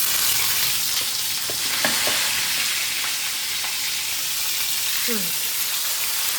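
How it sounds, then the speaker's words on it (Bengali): A fish head coated with salt and turmeric fries in hot oil in a pan, giving a steady, loud sizzle and crackle with a few sharper pops throughout. "মাছের মাথাটা ভেজে নিই।"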